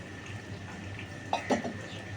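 Quiet stirring of spice paste loosened with warm water for chhana kofta, a faint continuous hiss with a couple of brief clinks of utensil against the pan near the end.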